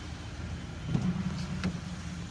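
Steady low interior hum of a 2010 Chevrolet Equinox LT, heard from inside the cabin, with a couple of faint clicks over the drone and no talking.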